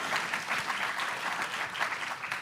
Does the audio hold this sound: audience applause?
yes